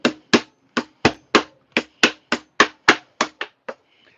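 A metal lid is smacked down onto a can of sanding sealer with about a dozen sharp, evenly spaced taps, loud and close, the last few lighter, with no voices.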